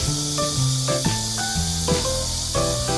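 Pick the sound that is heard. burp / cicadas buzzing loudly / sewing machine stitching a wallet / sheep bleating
cicadas buzzing loudly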